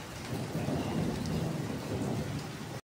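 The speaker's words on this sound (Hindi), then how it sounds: "आपको नज़र आ रहा होगा कि बारिश हो रही है" Rain falls steadily on a Pakistani family's plants and garden outdoors, a dense continuous patter with a low rumbling wash underneath, moderately loud and close, with no voices.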